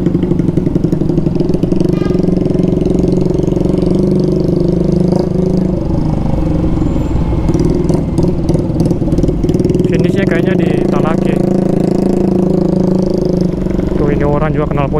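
A motorcycle with a loud, noisy exhaust drones close by on a street in Ambon, rumbling steadily and revving at times amid other passing traffic, while a rider talks over it.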